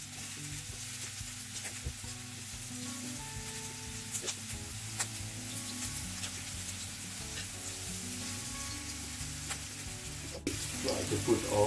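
Meatballs fry in hot oil in a pan with a constant busy sizzle, crackle and a few small pops, getting louder near the end; no talking.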